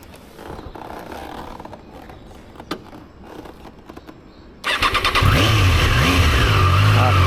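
Triumph Daytona 660 motorcycle engine cranks and fires up abruptly after some quiet handling noises, then settles into a loud, close, steady idle with a rough mechanical whine.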